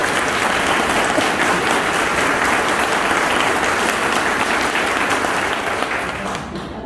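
Loud, sustained applause from a church congregation during an adult confirmation class on the sacrament of holy orders, a dense wash of many hands clapping steadily for several seconds before tapering slightly at the end.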